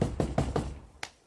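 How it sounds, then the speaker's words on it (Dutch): Knuckles rap on a door four times in an even, moderately loud rhythm, followed after a short pause by one sharper, higher tap. "iemand die op de deur klopt"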